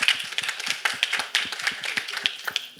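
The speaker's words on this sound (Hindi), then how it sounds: "एक बार तालियां इस चीज़ के लिए." Audience clapping at a song launch event, a busy stream of overlapping hand claps at moderate loudness, without speech.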